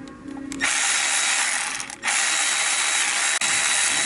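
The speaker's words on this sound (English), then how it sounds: "find my ratchet here and run this guy back in." A hand ratchet spins a bolt back into a 4.0 SOHC Ford engine during water pump replacement, giving a fast, continuous close-up clicking that runs for several seconds with a brief pause and one sharp catch.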